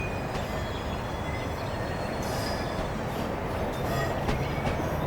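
An Azuma train in Train Simulator Classic rolls slowly along high-speed track with a continuous rumbling roar and faint rhythmic clatter, heard alone and at close range.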